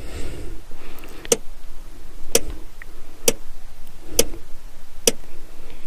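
A Peugeot 106 handbrake lever ratchets in five sharp, evenly spaced clicks about a second apart, over a low background hum.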